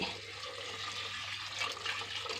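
Water is poured onto moong dal in a pressure cooker in a home kitchen, giving a soft continuous splashing rush that stays steady and fairly quiet throughout.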